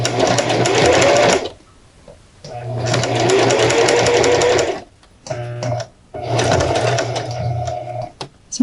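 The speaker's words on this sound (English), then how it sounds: "So I'm just stitching in the ditch right along here to make a very clean waistband" A sewing machine stitching in the ditch along a garment waistband runs in three loud sustained bursts with short pauses between, close and steady, with brief handling noises in the gaps.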